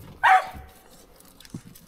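A black puppy gives one sharp, fairly loud bark at a house door, followed by a faint short yip, with a quiet background.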